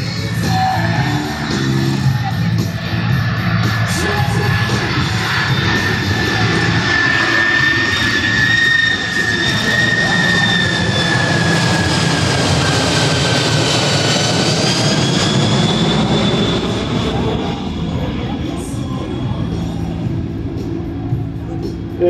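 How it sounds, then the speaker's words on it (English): A C-5M Super Galaxy jet transport flies slowly past at the Dover airshow with a loud, sustained jet-engine roar and whining tones that shift in pitch as it passes, filling the whole stretch before easing slightly at the end. "Here you go, ladies and gentlemen, slow flight, the C-5M Super Galaxy."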